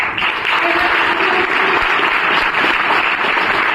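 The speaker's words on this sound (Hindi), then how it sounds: "जरूर आप एक बार मीठी मीठी ताली से स्वागत कीजिएगा" Applause fills a hall as speakers are welcomed at a motivational event, a dense, loud, continuous clapping from a crowd lasting the whole moment without letting up.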